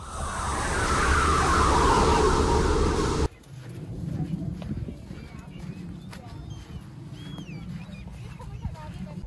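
Hooves clip-clop in a rhythmic trot from a mare at an eventing hire arena, heard beneath a steady rumble of wind or movement that gives way to quieter, closer hoofbeats alongside people talking.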